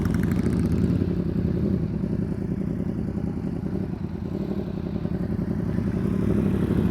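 A motorcycle engine runs steadily through clutch practice, a loud, close, continuous mid-pitched drone with a faint rattle that holds the same level throughout.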